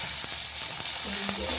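Eggplant frying in oil in a pan, a loud, continuous close-up sizzle with a few faint clinks and soft scraping underneath, no talking.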